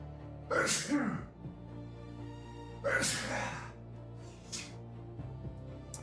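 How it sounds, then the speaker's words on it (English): Two loud, close sneezes a couple of seconds apart, followed by a smaller sniff or breathy exhale. "I got a huge sneeze coming on."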